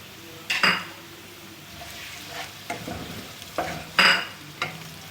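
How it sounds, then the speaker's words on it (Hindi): White parts of green onion stir-fried on high heat, a quiet sizzle punctuated by six sharp metallic clanks and scrapes of a spatula against the pan, close up with no speech. "अब मैं इसमें ये जो वाइट पार्ट है ग्रीन अनियन का, ये डाल रही हूँ।"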